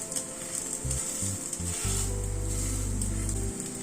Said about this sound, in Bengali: এবার এদিকটাও চেপে চেপে লাল করে ভেজে নেব।